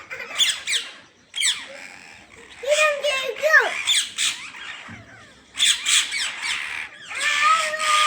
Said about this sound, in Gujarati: કેવા પોપટ છે